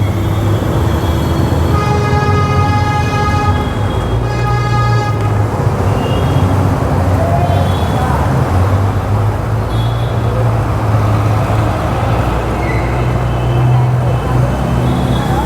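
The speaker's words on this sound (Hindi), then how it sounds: "अब यहाँ पर मैं दूसरे गियर में चल रहा हूँ" A 2024 Bajaj Pulsar N250 V2 motorcycle cruises in second gear on a road. A steady engine hum with tonal whine runs through constant loud wind and road rush.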